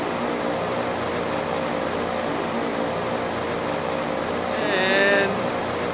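An aircraft engine in the Minecraft Immersive Vehicles mod hums steadily, then throttles up with a short rise in loudness near the end, a continuous synthetic drone under occasional faint speech.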